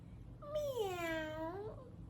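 A voice imitates a small creature's cat-like meow, giving one drawn-out, wavering mew that rises and then falls. It is fairly faint and close, with no other sound.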